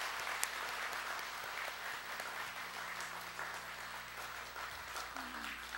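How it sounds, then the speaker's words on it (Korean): Welcoming applause from a church congregation greeting newly registered members, a steady wash of many hands clapping at moderate distance, filling the room without a break. "환영의 박수 하겠습니다."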